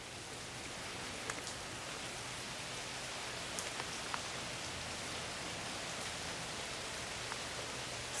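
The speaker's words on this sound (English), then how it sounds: "listening to the rain" Steady rain falls over a garden in June, a dense even hiss with occasional louder drops tapping nearby, continuous throughout with no voices.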